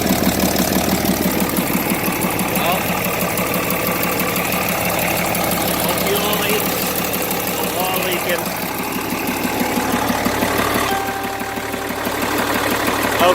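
A freshly installed engine in an M35A2 military truck idles on its first start, chugging with a steady, rough, knocking rhythm close by, with a brief dip in the middle and voices talking over it.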